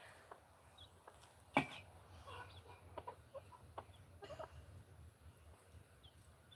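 An Orpington hen clucks softly among her chicks, with scattered short clucks and faint peeps at moderate distance and one sharper, louder call early on.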